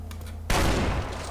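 Gunfire in the video game Far Cry 4, a sudden loud burst of shots breaking over a steady low game hum and quickly trailing off.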